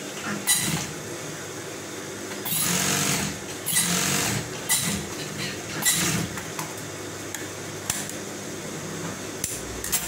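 Sewing machine stitching a garment collar, running in loud fast bursts that start and stop several times, with mechanical clatter between runs and no talk.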